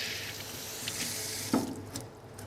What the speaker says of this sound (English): Remove the insides of the vein as well and give it a quick wash.